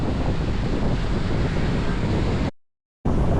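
Strong wind along the Ecoland coastal road in Davao roaring and buffeting a microphone, a dense continuous rush that cuts out briefly before returning.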